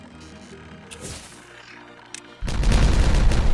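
A detonation in the game Timberborn: faint mechanical clicks and a soft tone give way to a sudden, loud, rumbling blast that keeps roaring to the end.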